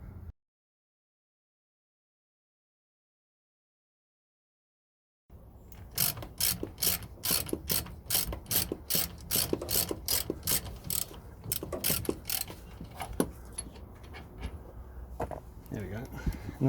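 After several seconds of silence, a ratchet undoes 7mm hex bolts on Volkswagen T3 front brakes, clicking in quick, regular bursts of sharp pawl ticks up close, with pauses and some handling noise between strokes.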